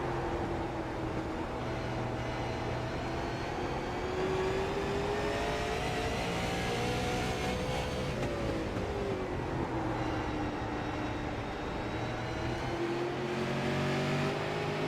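Onboard engine of a race car in iRacing, a steady loud drone whose pitch rises and falls as the car accelerates and lifts, continuous with no talk over it.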